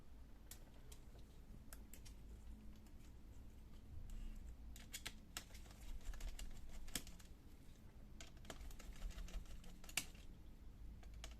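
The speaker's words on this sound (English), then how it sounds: "now let's unscrew these screws" Small screws being unscrewed from a Toshiba Satellite L50-B laptop during disassembly, heard as faint, irregular ticks and clicks up close in a quiet room.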